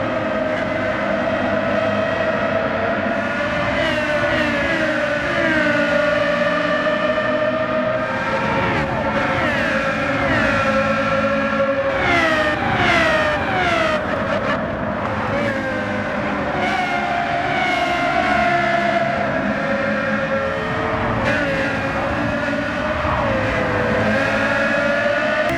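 A race car engine in the video game Gran Turismo 7 during a daily online race, loud and continuous, revving up and down through repeated gear shifts and accelerations, with no one talking.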